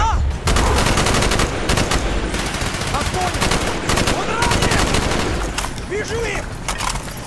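Sustained automatic gunfire rattles through a Call of Duty: Black Ops battle at a crash site, rapid bursts and overlapping shots filling the scene, with soldiers shouting amid the fire.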